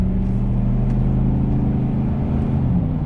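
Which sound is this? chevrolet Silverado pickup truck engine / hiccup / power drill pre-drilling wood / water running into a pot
chevrolet Silverado pickup truck engine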